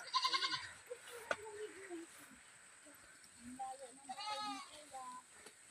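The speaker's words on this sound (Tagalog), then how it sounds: "Ayan, alaga sang kambing." Goats bleating outdoors on a farm, several short wavering calls near and far, with people talking in between.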